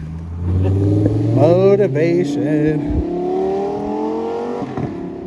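A green Lamborghini revs and sweeps past, its engine rising in pitch as it accelerates and then drawing away, loud and close beneath excited voices talking over it.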